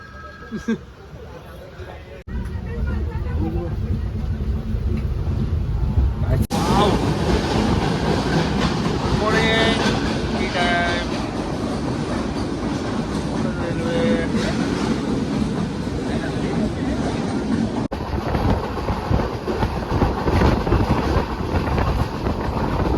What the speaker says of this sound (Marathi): अक्षय रोहन ट्रेनचा प्रवास कसा वाटतोय